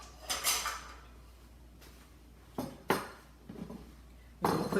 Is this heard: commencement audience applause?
no